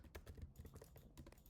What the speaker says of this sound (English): Wow, I am typing really poorly.